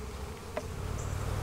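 Honeybees in a hive give off a steady, close, continuous buzzing drone with one brief sharper buzz passing near, and no talking.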